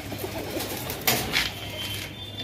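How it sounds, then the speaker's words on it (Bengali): Dhalpit pigeons at a pigeon farm in Nabadwip give low, rolling coos over a soft murmur of birds, with a couple of brief louder bursts from nearby. "এটা হচ্ছে ঢালপিট পায়রা, দেখে নাও।"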